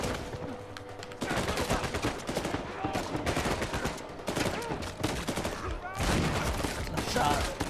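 Gunfire in the action video game Uncharted 4, with repeated bursts of rapid shots and sharp cracks that come in clusters separated by brief lulls, loud and close throughout.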